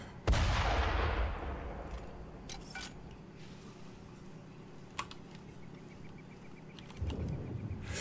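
A mortar in the Far Cry 2 video game fires with one sharp, heavy boom that rolls off over about a second, followed by quieter ambient game sounds, a small click and a later rumble.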